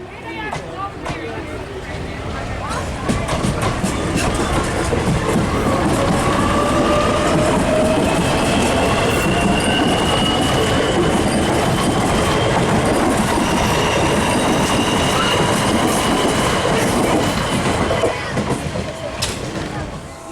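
A Dublin DART electric commuter train stands at a station, a steady loud mechanical hum with faint whines and clicks, while someone talks over it.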